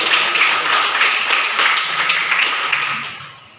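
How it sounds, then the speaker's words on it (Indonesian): Class of students applauding in a classroom, loud close crowd clapping that holds steady, then fades out near the end. "silakan kembali kita berikan tepuk tangan"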